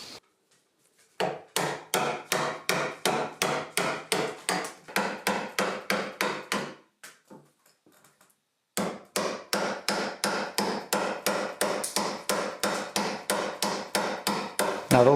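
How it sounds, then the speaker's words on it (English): A chisel, likely struck with a mallet, cuts wood while shaping a handmade bow. Sharp, evenly spaced knocks come in two long runs of rapid blows, close and loud, separated by a short quiet pause. "then I take a chisel and then chisel it out."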